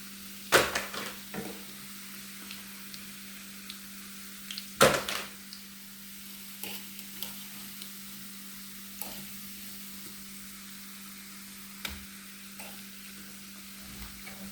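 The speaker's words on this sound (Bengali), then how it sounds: "দেখেন ভাজা হয়েছে কি সুন্দর।" Vegetable fritters frying in hot oil, a quiet steady sizzle broken by a few sharp clinks and scrapes of a utensil against the pan.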